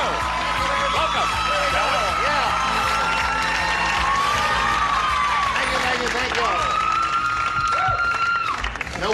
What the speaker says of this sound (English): We appreciate your brisk applause, though.